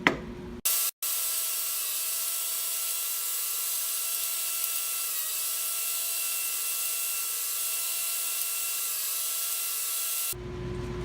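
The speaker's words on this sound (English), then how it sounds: "we're going to lower the blade so we can get our dado. And we're going to keep running these 2 boards" A table saw runs steadily as it cuts dado grooves in two wooden boards, giving a loud, continuous whine after a brief start, sustained for about ten seconds before winding down.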